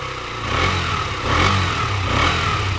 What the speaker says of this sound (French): Alors bien sûr, on a un son qui va être assez feutré, c'est un petit moteur.